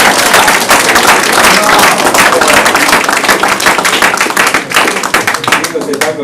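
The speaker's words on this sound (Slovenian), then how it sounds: "aplavz smo dali za naše slikarje" Audience applause for young painters at a local event: loud, dense clapping from a close crowd throughout, with voices mixed in.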